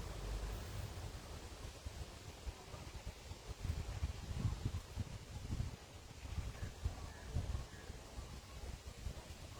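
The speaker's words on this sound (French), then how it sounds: "Le vent commence à être extrêmement violent." Strong, violent wind blowing outdoors, a steady broadband roar with low rumbling gusts swelling around the middle, buffeting the microphone throughout with no speech.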